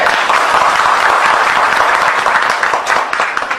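Steady, dense applause from a sizable crowd, loud and continuous throughout, thinning slightly toward the end.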